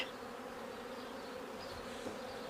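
A faint, steady honeybee buzz hums continuously, bees droning nearby at low volume.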